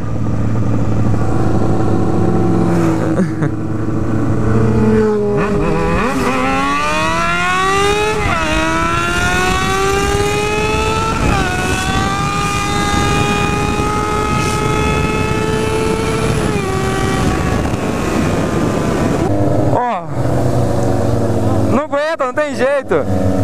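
Several Honda Hornet motorcycle engines rev and accelerate loudly, their pitch climbing and shifting as they pass close by, a continuous roaring buzz throughout.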